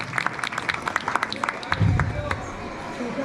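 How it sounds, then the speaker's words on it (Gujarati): A crowd at a community gathering in Lakadiya village claps for the president, a scattered burst of applause with distinct individual claps, while people speak over it. "પ્રમુખ સાહેબને જોરદાર તાળીઓના નાદથી આપણે બતાવી"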